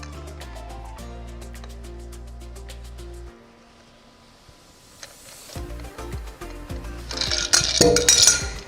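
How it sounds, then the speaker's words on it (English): A lemon-based cocktail strained from a mixing glass into an old-fashioned glass: a steady hum drops out, then ice rattles and clinks against the strainer and glass, rising louder toward the end, close and without talk. "I'm going to strain it into an old-fashioned glass."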